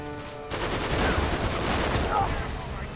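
Rapid gunfire in the video game Uncharted 3 during a caravan chase, a sustained automatic burst that kicks in after half a second and rattles on steadily to the end, loud and close.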